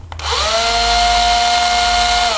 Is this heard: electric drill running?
yes